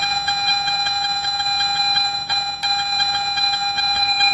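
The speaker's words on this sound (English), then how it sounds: "getting that very, very repeatable sound back and forth either direction to narrow it down" A Garrett metal detector sounds a repeating electronic tone while pinpointing a target, pulsing evenly back and forth as the coil wiggles, close and clear without speech.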